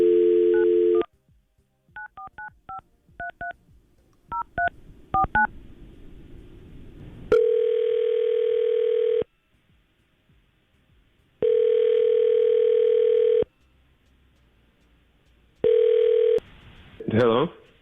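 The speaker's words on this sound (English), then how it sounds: "we're going to try to call Richie right now and see if we can get him on the phone." A radio studio places a call by phone: a burst of tone, a quick run of dialing beeps, then long ringback tones separated by pauses, with a brief voice at the end.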